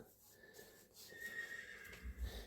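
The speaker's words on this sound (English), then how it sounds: "If you can hear a horse whinnying, the workshop is at riding stables" Horse whinnying at riding stables near a saddlery workshop, a faint distant neigh with a few low thumps and clatter toward the end, quiet and far off.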